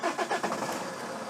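Vauxhall Insignia 2.0 TDCi diesel engine cranking and firing, a brief chugging start settling into a steady idle, close and fairly quiet.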